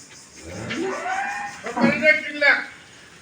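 A dairy cow lets out a couple of drawn-out moos, close by, with some voices mixed in around them.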